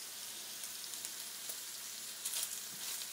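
Chopped bacon sizzles in a pan as it heats, giving a soft, even hiss with a few faint pops. The sound is close but quiet, with no talking.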